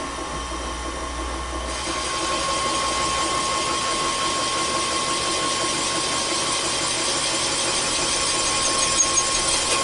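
A valve seat cutter works hardened valve seats on a Ford 390 engine head, giving a continuous grinding whir with a thin squealing edge. It runs steadily and close by, with no talking.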